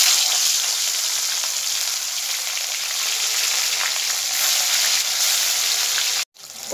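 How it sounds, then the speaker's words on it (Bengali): Rohu fish pieces coated in turmeric fry in mustard oil in a wok, giving a steady, loud, close sizzle that holds without a break and cuts off abruptly near the end. "এবারে আমি কড়াই সর্ষের তেল দিয়ে রুই মাছগুলোকে ভেজে নেব।"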